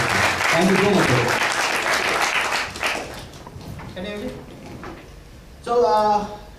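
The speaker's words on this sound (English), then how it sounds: "a big round of applause for Rajat to participate in this presentation" Conference audience applauds a presenter at a talk on IoT performance testing, a dense burst of clapping for about three seconds that fades into a speaking voice, with a brief second ripple of clapping near the end under talk.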